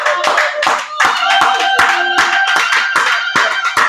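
A church congregation claps together at midnight to acclaim the Lord. Loud, rhythmic, close applause continues steadily throughout, with some faint voices mixed in.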